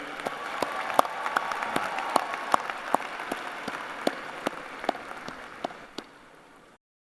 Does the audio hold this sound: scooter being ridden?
no